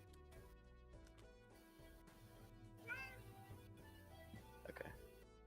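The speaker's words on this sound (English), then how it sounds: "I heard a kitty in the background." A pet cat meows faintly in the background of a Balatro game stream, a few brief calls rising over steady game music.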